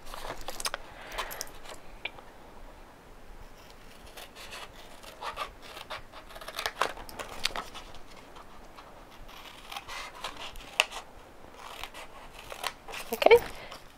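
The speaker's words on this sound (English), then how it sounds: "I'm going to turn it round and I'm going to cut these 2 lines." Scissors cut straight lines in cardstock for a handmade card, making faint, scattered snips and rustles close by. Quiet talk runs alongside.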